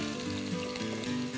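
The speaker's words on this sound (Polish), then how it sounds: "No więc to wszystko wrzucamy i smażymy, ale najlepiej pod przykryciem, żeby jeszcze ziemniaki dostały temperatury" Potatoes and other ingredients fry under a lid in a pan, giving a dense, continuous sizzle that stays loud and even throughout the short stretch with no voices.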